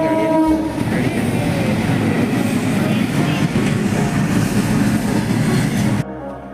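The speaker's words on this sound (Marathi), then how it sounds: "रेल्वे क्रॉसिंग होती त्याच्यामुळे आम्ही थांबलो होतो, कारण गेट बंद होतं." A train rumbles loudly and steadily past a closed railway crossing gate, with rhythmic wheel clatter and a horn, close by, before cutting off to quieter surroundings.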